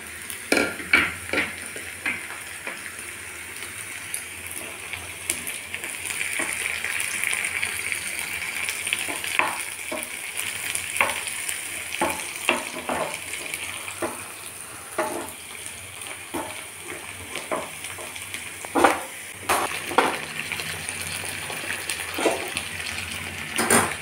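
Onions and curry leaves fry in a pan with a steady sizzle, while a spoon scrapes and taps the pan in scattered strokes over a long stretch.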